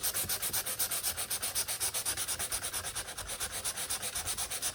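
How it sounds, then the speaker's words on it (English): Sandpaper of 320 grit lightly rubbed over wood to clear burn marks, a steady rhythmic rasp of quick back-and-forth strokes, close and continuous throughout with no talking. "What I have is 320 paper, 320 grit paper, and by lightly sanding this"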